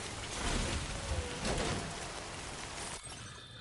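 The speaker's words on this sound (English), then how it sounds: "Obviously, it is raining" Steady rain falls in the video game Death Stranding 2: On The Beach, a dense continuous hiss of downpour with a sharp break near the end and no voices.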